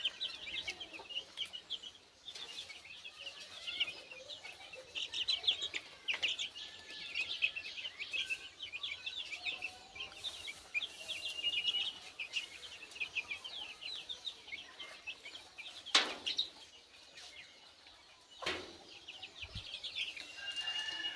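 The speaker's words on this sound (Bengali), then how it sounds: "তো এগুলো হচ্ছে টাইগার মুরগির বাচ্চা" Young tiger-breed chicks on a farm peep and cheep steadily in a continuous high chorus, close by and moderately quiet, with a few faint thumps and no talking.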